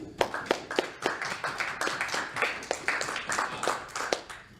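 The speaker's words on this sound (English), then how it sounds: "So I think we all deserve a round of applause" Audience clapping for a panel at the end of a feminism discussion, a small group giving sharp, distinct claps in an uneven rhythm, fairly close and quiet, with no talk over it.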